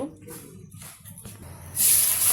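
Cooking oil poured into a hot kadai for a Bangladeshi village-style green chilli curry erupts in a sudden, loud sizzling hiss. A short, quiet stretch with soft voice-like sounds comes before it.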